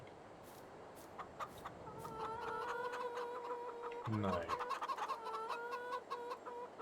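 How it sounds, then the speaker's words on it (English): Chickens cluck inside a chicken barn in a farming video game, with steady repeated clucks and calls under a constant synthetic hum, plus a brief tonal sweep midway. "now that there's chickens in there, I can feed them"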